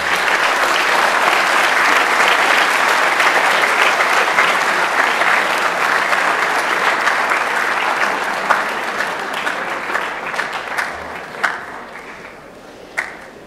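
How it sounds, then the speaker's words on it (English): A school Veterans Day assembly audience gives a loud, dense round of applause for veterans, sustained for around eight seconds before thinning into scattered, individual claps that trail off. "one more round of applause for all those who have served"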